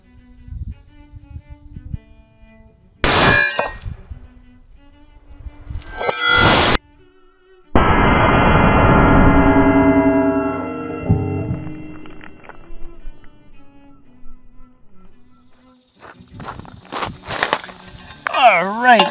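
Two sharp impacts of 200 grain .308 Win bullets fired at about 1,200 feet per second striking a Predator Level III armor plate, each a loud crack, followed by a longer sustained ringing burst and scattered clatter.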